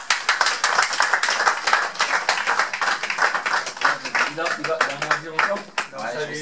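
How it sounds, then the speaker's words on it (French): Audience at a Paris general meeting of the Michel Mbounguo foundation claps for everyone, dense clapping running throughout with voices talking over it, fading toward the end. "On applaudit pour tout le monde."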